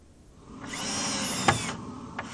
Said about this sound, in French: Un coup de vis par-ci, un coup de scie par-là.